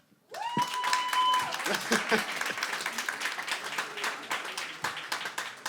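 Applause from an audience swells quickly and carries on steadily, with shouts and whistles rising briefly over the clapping.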